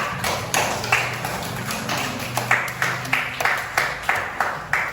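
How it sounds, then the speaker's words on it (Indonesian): Classroom applause for student group 4: a run of separate, sharp hand claps in an uneven rhythm, fairly close and moderately loud, with no talking over them. "silakan untuk kembali beri aplaus kepada kelompok 4"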